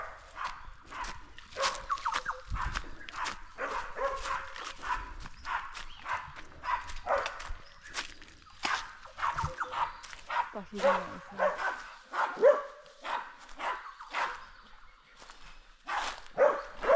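Working dogs bark in bursts during a feral pig hunt from a buggy, sharp repeated yaps and woofs close by over engine rumble and movement noise, with a voice calling at points.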